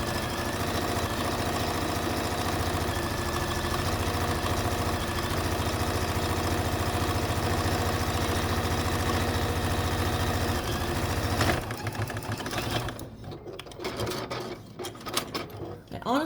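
A sewing machine runs continuously along a stitching line on a vintage quilt, a loud steady mechanical whir for about eleven seconds before stopping, followed by quieter handling noises.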